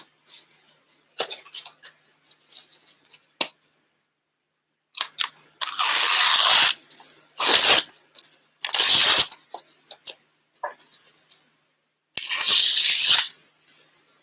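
A large, razor-sharp knife slices through a sheet of highlighted paper in several short, crisp bursts of cutting and tearing, separated by quiet pauses.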